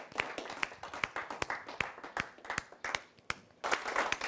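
Audience at a Hindi kavi sammelan poetry gathering claps in welcome of a poet, scattered sharp individual claps in an uneven rhythm rather than a dense ovation, swelling into fuller clapping near the end.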